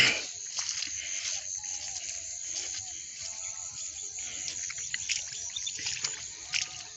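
A river trickles and splashes softly around a person wading into cold water to fish in the early morning, with close, faint sloshing and dribbling alongside light outdoor ambience.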